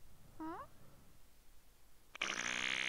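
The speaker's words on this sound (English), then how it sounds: "Oh, five different sounds of fart." A loud, buzzy fart sound effect from a virtual pet app game bursts in near the end and holds steady, following a short vocal squeak.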